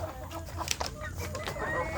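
Free-range village chickens clucking nearby, a few short squawks over a low steady background hum.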